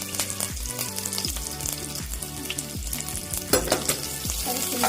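Green chillies and onion pieces fry in hot oil for a samosa recipe, giving a continuous sizzle with melodic tones running underneath and brief louder bursts near the end.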